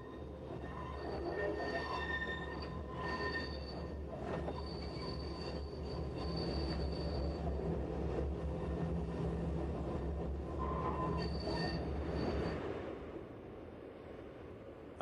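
Tram wheels squeal on curved track near St. Gallen station in Switzerland, shrill piercing tones rising and falling over a steady rumbling roll, loud and close, fading as the cars pass at low speed.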